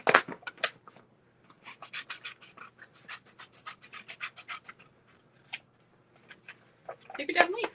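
Scissors snip around a paper stencil cut on a Cricut for a snowman-head painting kit, a run of quick, close, crisp cuts with brief pauses between them, and someone talking softly at the start and end.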